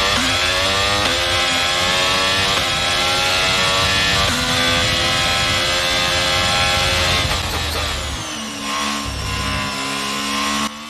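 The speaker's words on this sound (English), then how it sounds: "That is the new updated Ferrari engine sound, which wasn't in the previous build of the game" Ferrari Formula 1 engine in the F1 22 racing game, loud and close, with a high-pitched whine that climbs through the revs, dips sharply at gear shifts and drops away near the end before pulling again.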